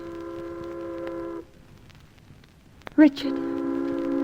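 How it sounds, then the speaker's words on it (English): Tugs and ships in a city harbour sound horns and whistles: a sustained tonal blast cuts off, then after a pause a sharp swelling hoot rises into another long steady horn, with someone speaking briefly over it. "By the way these tugs and ships are hooting, I'd say so."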